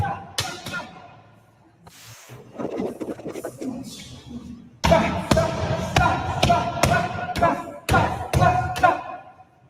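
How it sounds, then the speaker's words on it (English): Heavy thudding punches land in quick irregular bursts during boxing sparring, sharp thumps with brief pauses between them. "Just really heavy thudding shots."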